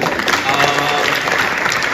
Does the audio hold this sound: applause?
yes